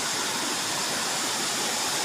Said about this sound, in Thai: ตอนนี้เราอยู่ที่น้ำตกห้วยแก้วนะครับผมครับที่เชียงใหม่นะครับผม